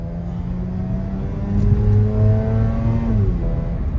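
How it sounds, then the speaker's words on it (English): A Mazda RX8 40th Anniversary with its rotary engine pulls hard and revs, a loud, close, buzzing drone climbing steadily in pitch through the gears for several seconds, with no talking over it. "See, it accelerates all the way up to 7, which 7 is the magical number for autos."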